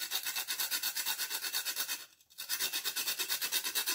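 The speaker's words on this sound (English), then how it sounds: "Let me just scrape it" Rhythmic scraping strokes on an ingredient while preparing Nigerian moi moi, steady and close, repeating quickly with a brief pause midway before resuming.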